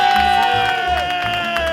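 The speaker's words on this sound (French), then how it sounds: "Un tonnerre d'applaudissements pour ce gonfleur, messieurs dames." A crowd at a ham fair cheers and applauds in a loud, continuous wash of clapping and shouts, with a sustained musical tone running through it.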